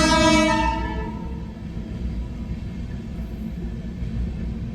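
A train rolls through a railway crossing on a road trip toward Hyderabad: a loud horn blast at the start fades into a steady, heavy rumble of passing cars nearby.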